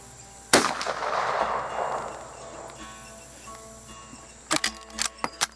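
A single loud .45 Colt rifle shot from a Rossi R92 lever-action at an outdoor target range, a sharp close blast with a long rumbling decay, followed seconds later by a few faint clicks and clacks.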